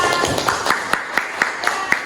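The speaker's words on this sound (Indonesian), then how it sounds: "beri tepuk tangan untuk Cinta" A school class claps for a student, a spaced run of crisp, fairly rhythmic claps close by, with a few background voices underneath.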